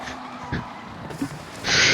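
A drift car in a racing video game skids across the surface, its tires giving a brief hiss that swells into a loud, sustained screech toward the end, with no talk over it.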